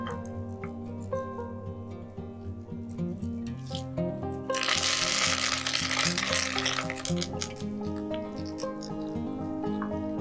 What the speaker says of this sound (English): Add fennel and cinnamon stick to temper them